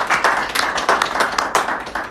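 A small group applauds at a Rotary club Christmas gathering, a short burst of rapid, uneven hand claps heard close and fairly loud, with no voices over it.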